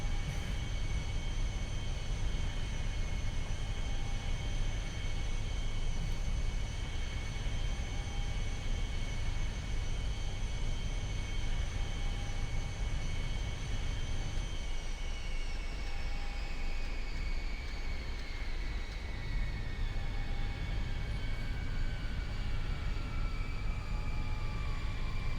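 Steady engine and air hiss fill the cabin of a Sukhoi Superjet 100 in the X-Plane flight simulator, a continuous drone with high tonal whine that shifts pitch partway through, moderately quiet and alone.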